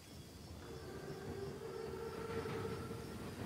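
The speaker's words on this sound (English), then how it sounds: "Train's right on time." A massive German armored Panzerzug train rolling in the video game Call of Duty WWII, a low, steady rumble of rail noise with faint whistle-like tones, distant and building slightly, with no voices.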